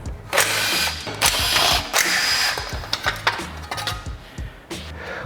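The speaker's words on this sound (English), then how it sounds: "With this one, we can simply unbolt it and get it out of the way." A ratchet unbolts a car's brake dust shield during a big brake kit installation, giving close, loud bursts of rapid metallic clicking with short pauses between turns.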